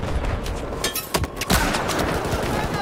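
Sniper rifle fire in Battlefield 4, with sharp, loud gun reports and several crisp shots cutting through dense in-game battle noise and distant gunfire, all in a busy multiplayer firefight.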